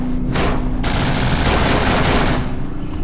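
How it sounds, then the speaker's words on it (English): Burst of gunshots in the zombie shooter No More Room in Hell, a loud, dense rattle of rapid shots that holds for most of three seconds before tailing off. "Shots."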